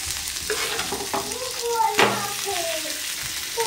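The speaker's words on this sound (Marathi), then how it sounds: "आणि ही नालबी मच्छी आहे ना, तर ती पण आता तळून घेते" Fish frying crisply in a pan, a loud steady sizzle close by with stirring and scraping, a voice faintly under it.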